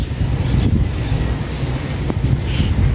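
Strong wind gusts roar steadily across a microphone, with a low rushing turbulence that may carry rain during a storm over a flooding street; one brief sharp knock stands out near the end, and no one speaks.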